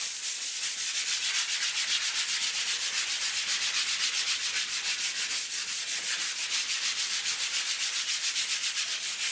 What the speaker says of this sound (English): This sanding will also help to just flatten out any brush marks